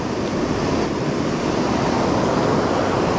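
Rushing water of a remote mountain trout stream, a steady broadband wash that fills the whole clip without pause, close to the microphone with no talk over it.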